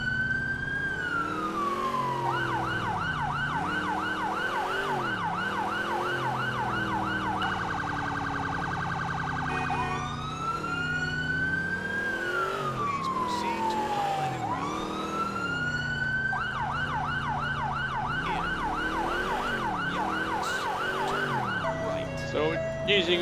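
A London police road-policing car siren cycles between tones, sweeping wails giving way to rapid yelps and back again, loud and close throughout with traffic noise underneath.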